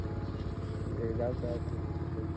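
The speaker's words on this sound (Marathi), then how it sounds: "कडे कोणतरी ट्रॅक्टर लायता, आवाज येता." A steady, rumbling engine drone runs throughout, like a tractor idling close by, with people talking over it.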